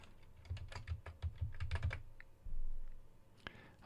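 Computer keyboard typing, a quick close burst of distinct key clicks that pauses, then a few more taps and a louder final click, with no voices.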